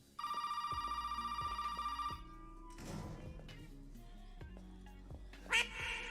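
A video game telephone rings in one sustained electronic burst, loud and steady for about two seconds, then stops and gives way to quieter game sounds and a brief chirp.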